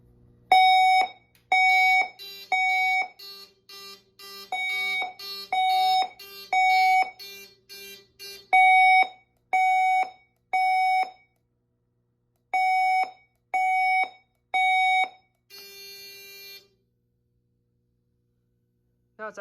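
A Simplex 4003 voice fire alarm control panel sounds its manual evacuation alarm: loud repeating electronic tone bursts in a steady rhythm with short gaps, ending in a brief high buzzy burst and then silence.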